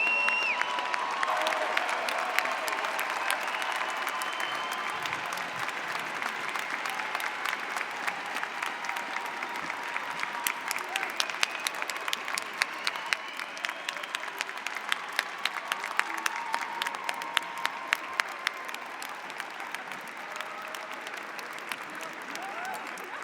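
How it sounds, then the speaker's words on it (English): Audience applause for psychology graduates at a university commencement, a long stretch of moderately distant clapping from a large crowd that grows more sharply defined midway, with a faint murmur of voices underneath. "Please join us in a round of applause."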